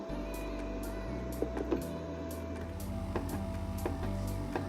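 An at-home cavitation and radio frequency body device runs its suction pump with a steady low mechanical hum, a thin constant tone and soft intermittent clicks, close and continuous with no talking.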